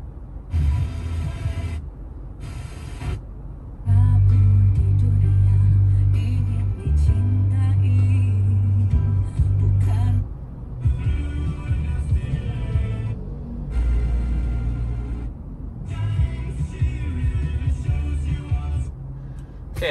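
Music plays through a Honda City or Proton Persona's stock speakers, bass-heavy and a little muffled, with gaps and shifts as stations or tracks change.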